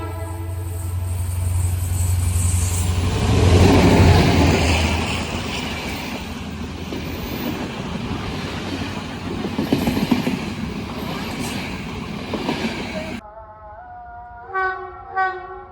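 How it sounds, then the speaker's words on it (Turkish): A yellow train in Pozantı, Adana rolls past on the rails, a loud rumble with rhythmic clacking that swells and fades, a horn blast at the start, then a short melodic tone sequence after it passes. "Sarı tren."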